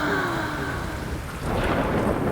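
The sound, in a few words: heavy rain and thunder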